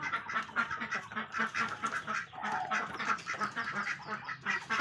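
A flock of egg-laying ducks quacks continuously on a cold morning, many overlapping honking calls forming a busy, steady chatter at moderate distance.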